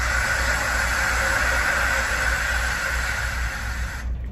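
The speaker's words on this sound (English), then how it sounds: "it's the waves at the ocean" Ocean waves wash in a dense, steady hiss and roar that fills the sound evenly, loud and continuous before cutting off abruptly near the end.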